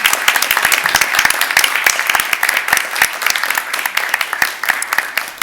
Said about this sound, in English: So I'd like to give all of our helpers here a huge round of applause.